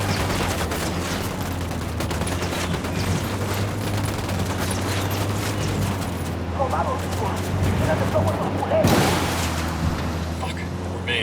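Rapid gunfire bursts in the video game Ghost Recon Wildlands crackle over a steady low background drone, with voices talking throughout and a louder volley near the end.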